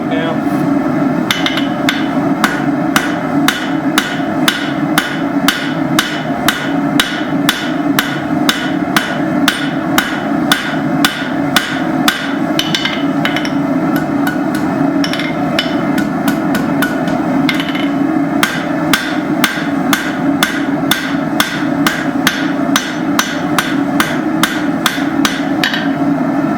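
Steady rhythmic hammer blows on hot steel at an anvil while banister hooks are forged, loud ringing strikes repeating rapidly and evenly throughout.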